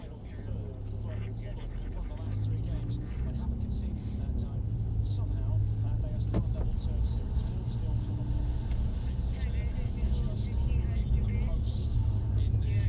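A Mercedes CLS coupe pulls away at a steady low rumble, its engine note rising gradually and holding close and continuous, with a voice talking over it throughout.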